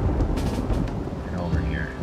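Rain and a rolling thunder rumble from the colony-survival game Rimworld, a deep, loud boom over steady rainfall filling the short stretch.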